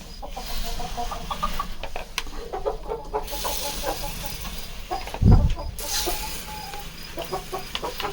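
A hen in a chicken house clucks repeatedly in short uneven bursts, fairly close. A sharp hiss like a spray interrupts partway through.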